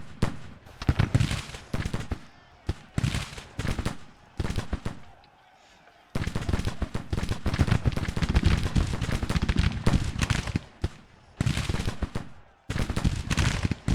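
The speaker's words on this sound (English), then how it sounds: "Artillery's getting closer." Artillery and gunfire in Grand Tactician: The Civil War, a loud sequence of sharp cannon blasts and crackling volleys in irregular bursts, broken by a short quiet gap near the middle and again toward the end.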